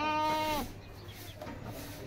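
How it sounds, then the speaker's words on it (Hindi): A goat at a home farm gives one loud, close, wavering bleat lasting about half a second, followed by quieter ambient noise. "ये बकरी है"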